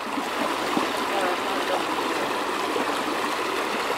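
A river flows in a continuous, even rush of water heard up close during a bush walk, with no other sounds standing out.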